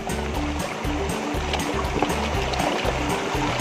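Water from a natural spring flows steadily beside a river, a continuous close rushing and gurgling wash with no break, heard alone without talk.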